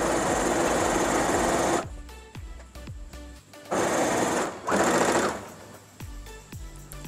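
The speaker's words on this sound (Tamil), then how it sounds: "இதை ஃபுல்லாக எடுத்து இப்படி நாடா கூக்குற அளவுக்கு உங்களுக்கு எவ்வளோ வேணுமோ அந்த அளவுக்கு விட்டுட்டு ஃபுல்லாக தையல் போட ஆரம்பிச்சுருங்க" Electric sewing machine stitching salwar pant fabric runs in loud continuous bursts, stopping and restarting with short quieter pauses and clicks between runs.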